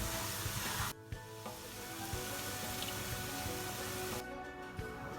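Food deep frying in hot oil, a dense close crackling sizzle that runs continuously, briefly dipping as pieces are lifted or disturbed, with faint clinks of a slotted spoon against the pan.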